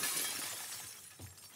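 Glass shatters in The Last of Us, a quick bright breaking crash with scattered tinkling, fairly faint and brief, with no voices.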